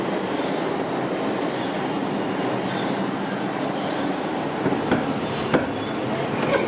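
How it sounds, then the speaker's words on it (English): A New York City subway train rumbles along in a continuous, loud, close drone, with faint wheel clicks and squeals rising near the end and no talking. "We're back on the subway."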